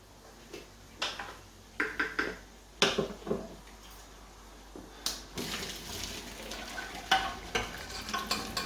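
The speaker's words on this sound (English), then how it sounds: "So, get the rice, give it a quick stir," A spoon stirs cooked rice in a pan: a series of scraping, scuffing strokes at an irregular rhythm, close and moderately loud, with quiet sizzle between.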